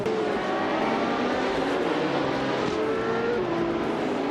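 A Porsche race car engine in a racing video game at the tight street circuit of Pau, droning continuously at high revs with gear-shift pitch changes and other cars close by, steady and loud with no talk.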